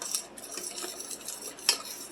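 Utensil scraping and tapping against a pot while stirring Haitian rice and beans sauce, a few short close clinks at an uneven pace with no talking.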